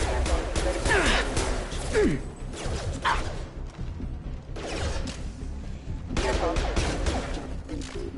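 Heavy gunfire rattles in a Mass Effect 2 combat scene on PS4, with bursts of automatic shots, impacts and mechanical clanks coming in waves, loud and close, with brief in-game voices over the fighting.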